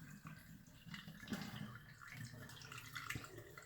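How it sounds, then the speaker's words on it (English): Liquid pours steadily into bottles as they are filled one after another, a continuous close trickling and splashing with small bursts of gurgle, no voices over it. "we're just going to keep filling these bottles"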